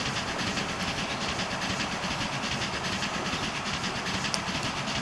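Train rolling along in Transport Fever, a Swiss train from the BLS mod: a steady, continuous rumble with faint rail clatter, loud and unbroken throughout with no voices.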